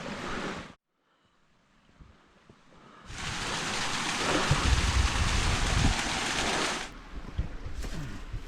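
Lady Booth Brook, a moorland stream on Edale Moor, rushes and splashes in a steady broadband wash, briefly interrupted near the start, then loud and continuous with gusty outdoor noise.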